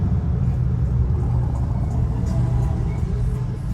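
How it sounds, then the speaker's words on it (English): A Chevrolet Camaro drives by, its engine a steady low rumble that holds loud and close throughout with no speech over it. "Camaro right there, that's why I got quiet."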